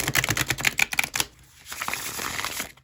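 Earth Magic Tarot cards being shuffled by hand, a quick run of crisp riffling flutters for about a second, then a softer, quieter shuffling texture, close and alone.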